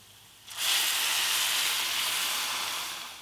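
Water poured into a hot pan of browned lentils and onion fried in ghee bursts into a loud, steady steam hiss that starts suddenly and holds, fading only slightly, with no voices.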